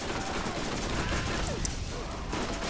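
Steady, loud rapid-fire shooting in Borderlands runs without pause, a dense clatter of shots mixed with other game noise.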